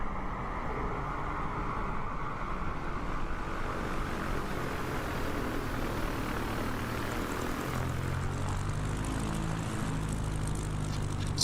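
Steady propeller drone of a short takeoff and landing airplane in Microsoft Flight Simulator during an eSTOL competition, a continuous moderate engine hum with a lower, deeper tone setting in toward the end.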